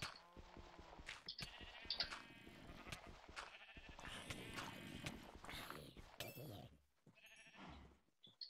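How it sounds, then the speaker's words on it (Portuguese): Sheep bleat repeatedly in a video game, mixed with game music, hoof clatter and other effects, with a few quieter gaps near the end. "fugiu um monte de ovelha"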